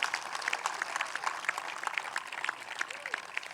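A large outdoor high school graduation audience claps, a soft, distant patter of many hands that stays faint and steady throughout.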